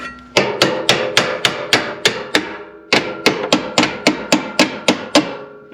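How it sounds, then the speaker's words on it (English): A hammer strikes repeatedly in a steady rhythm while working on a Pontiac Trans Am that sat for 17 years, about fourteen sharp, ringing blows close by, with a short pause partway through. "That's a good hammer."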